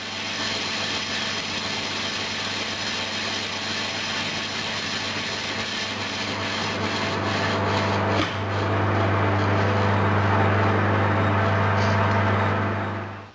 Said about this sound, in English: I'll go and cut these off and put them in the lathe and see